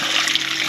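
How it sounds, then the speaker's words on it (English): Shower water running at a campsite near an old gold mining township, a steady, close hiss and patter of spray falling on a shower floor, loud and continuous without talk. "We are getting ready for a late night shower."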